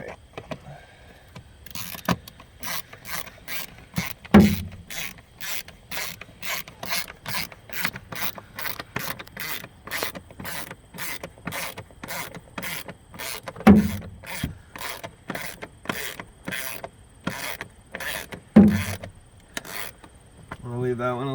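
A ratchet snugs the air filter box bolts on a Jeep Renegade, giving long runs of rapid, evenly spaced clicks close up, with a few louder knocks and short pauses between bursts.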